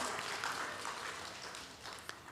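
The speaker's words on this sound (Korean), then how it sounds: "박수하겠습니다" A church small-group leaders' training audience claps in a brief, faint patter of applause with a few sharper claps standing out.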